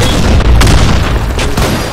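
A grenade explodes in the BlackShot shooter game: loud, booming bursts over a dense, roaring din, with a second blast following shortly after the first.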